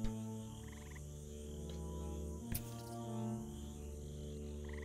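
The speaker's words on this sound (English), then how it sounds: "Another one of the frogs over there." A frog croaks in a video game colony scene, a low, steady, layered croaking over sustained tonal background hums, with a brief sharp click partway through.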